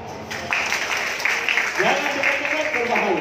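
An audience applauds at a comic snake-basket magic act. A dense wash of clapping swells in after a brief quiet start and carries on, with a voice heard among it.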